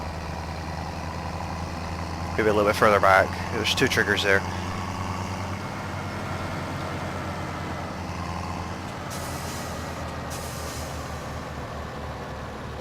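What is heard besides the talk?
tractor engine in Farming Simulator 17 video game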